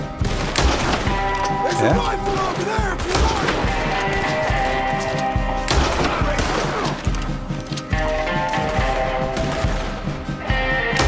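Sniper rifle fire in the video game Red Dead Redemption 2 amid a busy shootout, repeated loud cracks and heavy volleys over steady background clamor, with a brief voice cutting in once.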